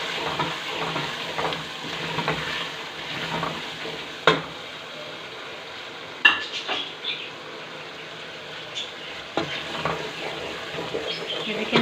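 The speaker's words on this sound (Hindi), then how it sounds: "हम अपने मसाले जात सारे डालेंगे, जो नमक मिर्चें हमने रखी थी, और इसको अच्छे से फ्राई कर लेंगे।" Tomato and spice masala with salt and chillies fries in oil in a pan for kale chana: a steady, close sizzle broken by a few sharp clinks of a stirring utensil, with no talk.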